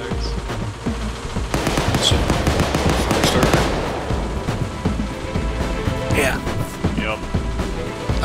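Rapid bursts of gunfire from the video game Payday 2 crackle and pop over a busy background, with people talking throughout.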